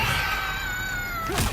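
A long, shrill wailing scream from a character in the fighting video game Mortal Kombat 1, sustained and slightly wavering, ending in a sharp burst of noise.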